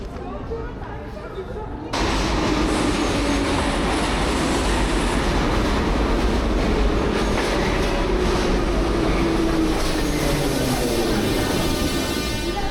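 A metro train in a station, with a sudden onset of loud, continuous rumbling and rail roar that holds steady near the listener, with faint metallic squeals.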